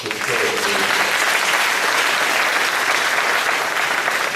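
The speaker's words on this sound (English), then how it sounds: "Please give him a round of applause" Audience at an education panel applauding a governor, a thick, continuous wash of clapping, loud and sustained for over four seconds, with some crowd murmur early on.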